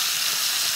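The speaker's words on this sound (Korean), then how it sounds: "우엉을 볶아주세요" Burdock root stir-frying in perilla oil and cooking oil, a brief steady sizzling hiss heard close with no talk.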